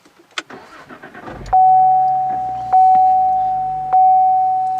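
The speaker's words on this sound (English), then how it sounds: "put the clutch in and then push the button right here to start the engine" After a few faint clicks, the 2016 Cadillac ATS-V with its 6-speed manual starts by push button and settles into a loud, steady run, with repeated beeps during the idle.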